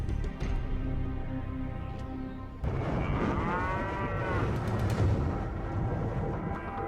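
Cattle in a remote pasture three hours north of Phoenix moo, with long, drawn-out lowing calls carrying over steady outdoor background noise.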